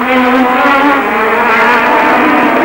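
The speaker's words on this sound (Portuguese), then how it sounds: "deve falar mais alto o motor Honda da Williams, Mansell vem chegando mais." A loud, high-revving Williams-Honda Formula 1 car engine roars close by at the 1986 Spanish Grand Prix, its pitch holding steady with a slight shift.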